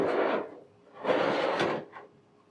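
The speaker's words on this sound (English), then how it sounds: "Reinstall the waste bin." A waste bin slides back into a Total 1 machine in two scraping, rubbing pushes with a small knock at the end, close and clear in a quiet room.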